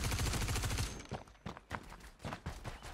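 Rapid automatic gunfire in the video game Star Citizen during a player-versus-player fight, a loud continuous burst that cuts off and gives way to scattered single shots and impacts.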